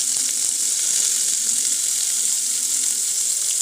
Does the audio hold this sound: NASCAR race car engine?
no